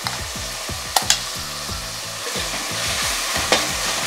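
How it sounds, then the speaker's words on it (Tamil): A ground paste of ginger, garlic, dried chili, onion and tomato fries in a pan for squid gravy, loud continuous sizzling under brisk stirring, with a few sharp utensil clinks against the pan. "சேர்த்து நல்லா மிக்ஸ் பண்ணிவிட்டு வெங்காயமும் தக்காளியும் அப்படியே குழைய நல்லா வதங்கி வரணும்."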